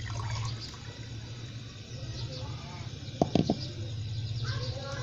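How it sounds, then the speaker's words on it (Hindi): Two glasses of water are poured into a pot on a lit stove: a soft, continuous pour and splash with a few louder splashes, over a low burner hum. "पहले हम इसमें डालेंगे 2 गिलास पानी।"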